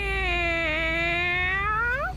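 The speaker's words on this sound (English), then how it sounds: "The meowing started to sound different." A drawn-out cat meow, used as a sound effect in an animated horror story, holds one long, even, tonal note for about two seconds before rising in pitch at the end, loud and close with a low rumble beneath.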